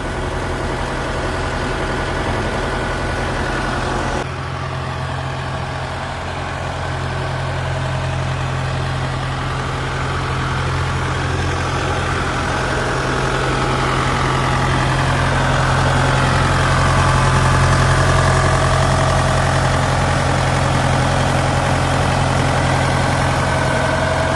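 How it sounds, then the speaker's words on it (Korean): The reassembled engine of a Kukje ARN98 combine harvester runs steadily after repair, a loud, continuous idling drone with a deep low hum and a faint rise in level toward the end. "이렇게 다시 엔진이 재조립해서"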